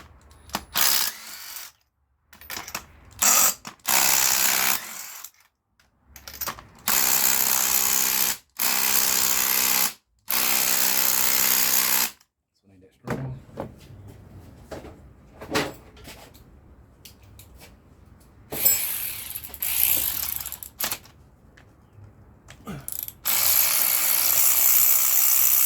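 Hand ratchet working spark plugs out of a VW engine with oil consumption and misfire trouble: repeated rapid clicking bursts, then quieter scattered tool handling noises and a steady whir near the end.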